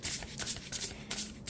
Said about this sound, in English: So side shuffling.